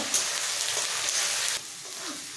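Ginger garlic paste and broken green chillies frying in a pan with capsicum for chilli chicken, a close hiss of sizzling that drops suddenly in level partway through.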